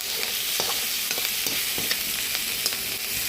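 Vegetables for paneer chilli stir-fried in a pan, a steady close sizzle with repeated scraping and stirring strokes throughout, no voices.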